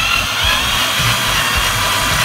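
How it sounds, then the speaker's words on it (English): A power drill bores into hard, cheap wood with a loud, steady whirring grind. It runs continuously and close to the microphone, with no speech over it. "right there, in the middle of that, give us a little drill"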